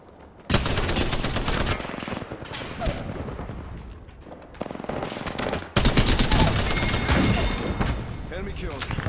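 Video game gunfire crackles in dense, loud automatic bursts, pausing briefly before a fresh heavy volley, with a voice talking over the shooting.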